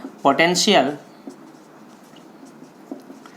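Short scratchy strokes of writing up an answer during a physics lesson on capacitors, heard faintly and intermittently after someone speaks briefly.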